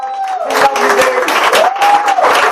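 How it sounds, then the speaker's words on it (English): Applause for a PR director during a thank-you address at a fashion event: a crowd claps in a thick, continuous patter, with a thin wavering tone, like a whistle or cheer, gliding above it. "I would like for you to give Cora a round of applause"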